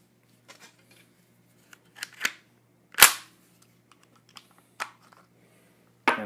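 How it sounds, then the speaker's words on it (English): Ruger Charger .22 pistol being unloaded, its action worked by hand: a few sharp metallic clicks and clacks spread across several seconds, one louder snap in the middle, close and alone with no talking. "And unload it, nothing in the chamber."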